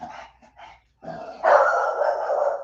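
A pet dog barks and yips indoors, first a few short broken bursts, then a sustained loud run of barking close by.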